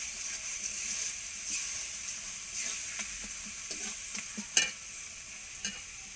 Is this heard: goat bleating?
no